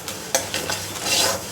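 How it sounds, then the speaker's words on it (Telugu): Sesame seeds frying and being stirred in a pan make a steady sizzle broken by scraping strokes of a utensil, close and clear, with no voices. "నువ్వులు కూడా మనం ఫ్రై చేసుకుందాం."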